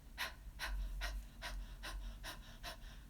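Rapid rhythmic breath-of-fire exhalations in yoga breathwork, about seven sharp nasal puffs at an even quick pace, close and quiet with no talking.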